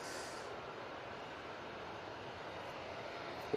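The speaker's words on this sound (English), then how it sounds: "Beautiful, that Qatar departure." A Qatar Airways airliner departing from Manchester Airport produces a steady, distant broadband jet roar that stays fairly even and faint throughout.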